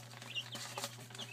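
Chickens, including docile black hens, clucking softly close by, a few short calls scattered over a steady low hum.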